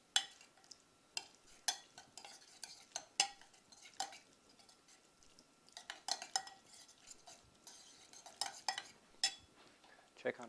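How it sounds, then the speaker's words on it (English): Sautéed asparagus is mixed with a little ricotta cheese and lemon zest in a bowl, heard as intermittent spoon clinks and scrapes against the dish, close and fairly quiet. "we can add just a little bit of the ricotta cheese. Just enough to bind. And start mixing all this together."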